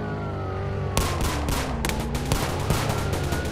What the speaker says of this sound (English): Oh, there's shots fired!